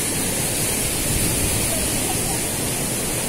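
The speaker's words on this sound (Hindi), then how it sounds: "यही वो लोकेशन है जिसे हम प्यार से बोलते हैं शिखर फॉल" Shikhar Falls waterfall in Dehradun, a steady broadband roar of rushing water, loud and close, unbroken for the whole stretch.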